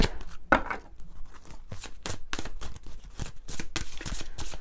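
Béline oracle cards shuffled and drawn by hand in a series of quick, crisp riffling and slapping bursts, close and fairly loud, with no talking.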